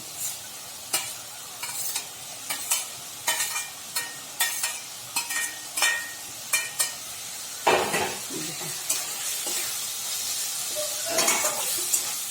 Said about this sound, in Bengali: এই দেখুন বন্ধুরা মশলাগুলো তারপর আমি ঝিঙেটা দিয়ে দিচ্ছি ঝিঙে ভেজে রেখেছিলাম ওটা দিয়ে দিচ্ছি